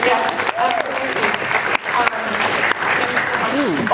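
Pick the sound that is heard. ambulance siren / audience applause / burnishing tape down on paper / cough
audience applause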